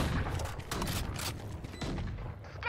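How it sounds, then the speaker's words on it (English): Gunfire from a Valorant match, with several loud, dense shotgun-like blasts crowding close together across the stretch and a fuller burst toward the end. "Dude, the shotguns are terrible."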